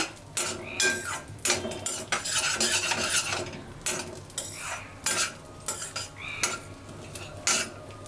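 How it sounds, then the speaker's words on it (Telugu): Raisins and cashews fry in a pan while being stirred, with frequent metal spoon scrapes and clinks against the pan over a faint sizzle. No one speaks. "కిస్మిస్ వేసుకొని కూడా కలుపుతున్నాను"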